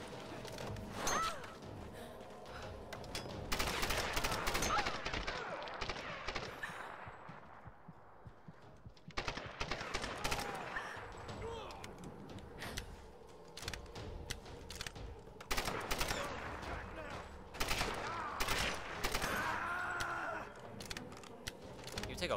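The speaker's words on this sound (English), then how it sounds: "Scramble to dodge enemy fire." Enemy gunfire in the 2013 Tomb Raider reboot arrives as dense, sharp bursts of shots mixed with metallic clangs and crashing impacts, fairly loud and continuous, with a short quieter lull midway.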